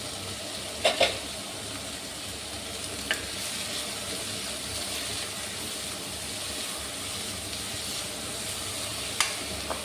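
Onions sautéing in a pan for spicy potato curry, a steady close sizzle throughout with a few faint scrapes of stirring.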